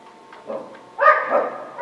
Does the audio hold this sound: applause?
no